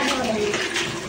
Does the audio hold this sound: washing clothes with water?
yes